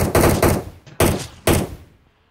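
Gunfire in the battle royale video game PUBG: four loud, close shots in quick succession, the first two nearly back to back, then two more spaced about half a second apart, each with a short decaying tail.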